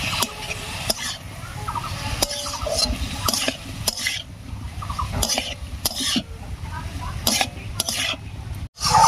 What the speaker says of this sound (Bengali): বাটা মশলা আর ধানকুনি পাতা দিয়ে একটু রান্না করে নিলাম